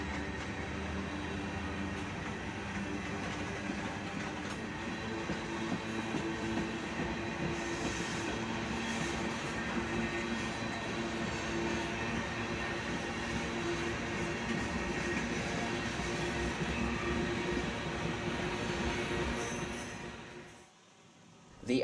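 A manifest freight train rumbles past on triple-track main line at a steady distance, with continuous wheel clatter and rail noise, fading out near the end.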